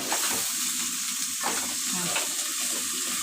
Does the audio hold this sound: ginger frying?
yes